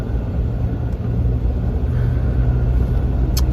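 A car drives along the road on a long commute, a steady low engine and road rumble with constant tire noise from inside the vehicle and no talking.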